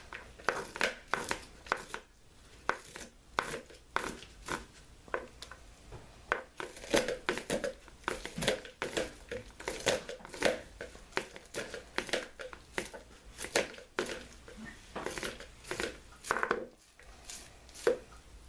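A knife scrapes corn kernels and milk off a cob in quick, repeated strokes, each a short rasping scratch close up, with a brief pause midway.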